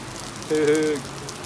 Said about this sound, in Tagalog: Lakas ulan oh.